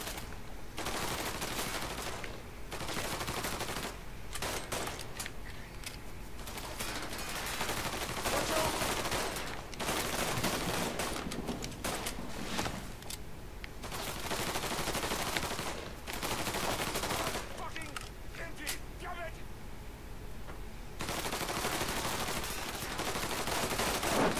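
Repeated gunfire from shooting in the video game Mafia 3: dense bursts of shots and fusillades crack out in clusters across the whole stretch, loud and continuous with brief gaps between volleys.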